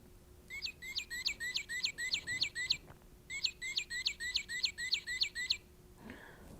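A squeezed toy male cardinal call gives two bursts of rapid, bright chirping notes, about eight each in quick even succession, separated by a short pause, loud and close.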